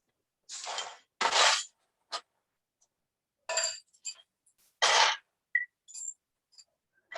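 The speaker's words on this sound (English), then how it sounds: "all you have to do is add an ice into your white wine glass" Ice cubes drop one by one into a white wine glass during summer cocktail preparation, bright close clinks and rattles in irregular bursts separated by silence.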